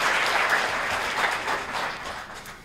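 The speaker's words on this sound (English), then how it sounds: "So give them a big round of applause." Audience applause for school administrators at a high school fine arts show, a dense, steady wash of many hands clapping that holds for a few seconds before easing slightly.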